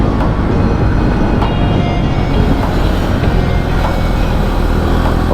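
Continuous roar of vehicles passing on a mountain ghat road, a dense, loud rumble of engines and tyres with no break and no talk.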